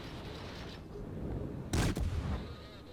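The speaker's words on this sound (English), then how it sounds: "We can cover this Bismarck with anti-aircraft fire." Anti-aircraft fire from the Dallas light cruiser in World of Warships comes as a couple of sharp, loud cracking bursts close together over a constant low rumble of battle.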